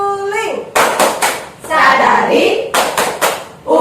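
A group performing the tepuk suling clap chant in a learning session, a few sharp, loud hand claps in a rhythmic cluster following a spoken call, with voices around them.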